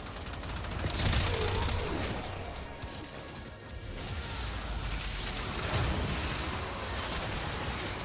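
Rapid shotgun fire from the Wisp in Warframe, blasting in a dense, continuous burst like a machine gun, with game effects and crashes layered over a steady roar throughout.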